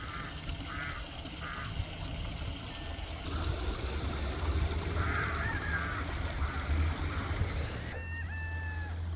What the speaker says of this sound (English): Got the roosters making noise